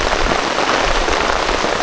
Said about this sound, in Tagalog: Malakas ulan